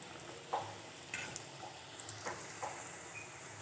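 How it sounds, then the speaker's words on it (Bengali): Luchi deep-frying in oil in an iron wok: a quiet, steady sizzle broken by a few soft clinks and scrapes of a utensil against the pan, with no voices. "আমি কিন্তু এটা লোহার কড়াই ভাজছি"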